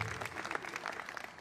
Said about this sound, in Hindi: एक बार तालियों के माध्यम से हम उनका अभिनंदन करेंगे।